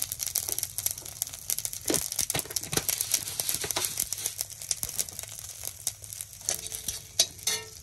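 Cumin seeds crackle and sizzle in hot oil in a pan for a wild taro curry, with dense, irregular popping and spitting that stays close and fairly loud throughout.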